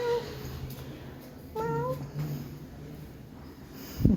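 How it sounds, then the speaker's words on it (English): Several cats meow in short, separate calls at a moderate distance, with a sharper noise at the end. "So many cats."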